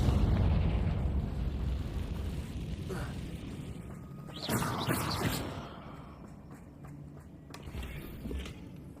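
A Confringo fire spell bursts into a loud explosion midway through, set against a busy Hogwarts Legacy game soundscape with a steady low rumble and smaller pops around it.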